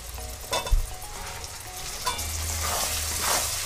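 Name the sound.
chopped tomato frying in spice masala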